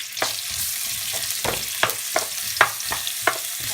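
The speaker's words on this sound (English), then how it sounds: "and we'll fry the onions" Onions frying in about three tablespoons of heated oil in a pan, giving a steady close sizzle broken by short sharp crackles and stirring clatters at irregular moments, with no voices.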